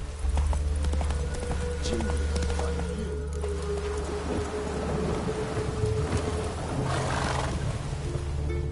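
Roach, the horse in The Witcher 3 video game, clip-clops along at a steady gait, with hoof beats running continuously under a low rumbling game ambience.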